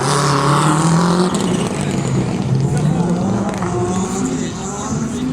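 Porsche and Alpine rally cars roar past at the Rallye de Wallonie 2021, loud engines rising and falling as they pass, with a commentator talking over the noise and a crowd in the background.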